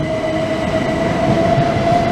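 A Southeastern Class 375 electric train rolls through Ashford International station with a loud, steady rumble and a sustained tonal whine, close by and continuous throughout.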